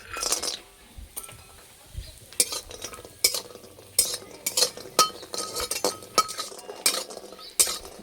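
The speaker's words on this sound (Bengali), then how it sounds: "বড়িটা একটু লাল লাল করে ভেজে নেব।" Lentil dumplings (bori) fry in mustard oil in a wok. A soft sizzle runs underneath while a utensil stirs and scrapes in irregular, close clinks and knocks.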